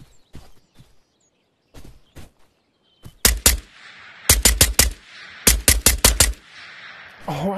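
Pistol fire in the video game Ghost of Tabor: bursts of loud, sharp shots from about three seconds on, in three quick clusters of several rapid cracks each, after a quieter start with faint thumps.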